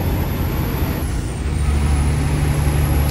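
A heavy tractor-trailer grinds up a steep Colombian mountain road in fifth gear, its engine a steady, loud low drone with broad road and wind roar that swells slightly toward the end.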